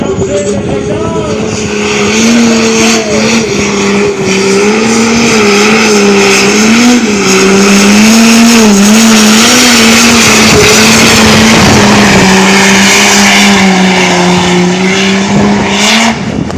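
A farm tractor named Blue Fear roars at full throttle during a tractor pull at the Richmond fair in 2024, its loud, close engine holding a sustained bellow whose pitch wavers and surges throughout.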